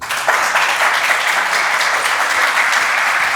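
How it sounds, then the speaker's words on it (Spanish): An audience at a talk on generative AI gives a speaker a burst of steady, dense clapping that starts abruptly and holds level throughout. "Recibamos por favor con un fuerte aplauso a César González."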